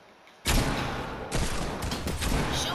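Loud automatic gunfire erupts in Fortnite after a quiet moment, a steady close barrage of rapid shots that keeps going with a few sharper bursts layered on top.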